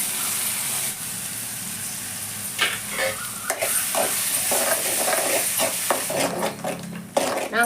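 Ground curry leaf paste sizzles and crackles in a tempering pan with asafoetida and turmeric, with steady frying and intermittent stirring scrapes and clinks of a spoon against the pan, close and continuous, with no talking.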